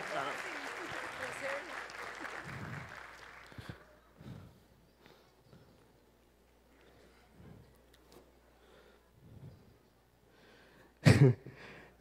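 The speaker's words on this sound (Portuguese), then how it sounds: "Palmas para eles." Audience applause at a persuasion talk, a loud dense burst of clapping for about four seconds, then speech with scattered sounds and a sharp burst near the end.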